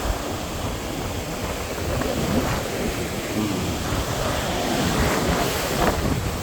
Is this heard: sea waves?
yes